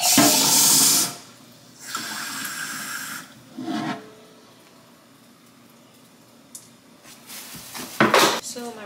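Water gushes from a sink tap into containers while rice water is prepared, in short bursts of splashing flow separated by quieter gaps with faint kitchen clatter.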